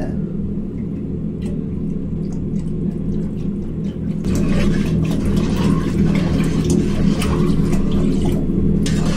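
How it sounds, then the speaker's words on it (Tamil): Milk poured steadily into a pot for payasam, a continuous splashing gurgle that grows louder partway through. "ஊத்துங்க பாலை."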